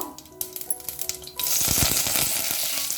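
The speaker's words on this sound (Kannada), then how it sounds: "ಎಣ್ಣೆ ಚೆನ್ನಾಗಿ ಕಾಯ್ದ ನಂತರ ಇದ್ರ ಒಳಗಡೆ ನಾವು ಸಾಸಿವೆ ಮತ್ತು ಜೀರಿಗೆನ ಹಾಕೊಳ್ಳೋಣ" Mustard seeds and cumin dropped into hot oil, first scattered sharp pops and crackles, then a sudden loud, dense sizzle that holds steady to the end.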